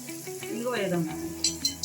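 Asafoetida and turmeric sizzling in hot oil for pulihora rice, a steady close frying hiss as a spoon stirs, with two sharp utensil clinks near the end and a faint murmur underneath.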